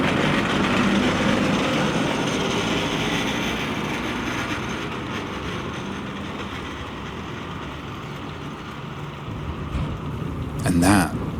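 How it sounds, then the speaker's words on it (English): A low, rumbling rush of an old streetcar rolling on tracks in Umekōji Park, Kyoto, steady and fairly loud, with a brief squeal or clatter near the end. "which is an old streetcar that still runs in the park"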